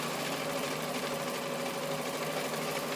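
A sewing machine stitches channels in a Rockport carryall bag, running at a steady hum with a fast, even mechanical rhythm through the whole stretch, close and alone without any voices.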